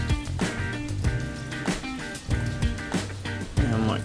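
Beef bone broth is poured from a pot into a bowl, making a continuous splashing, gurgling liquid flow with several sharp clinks and surges as the stream shifts.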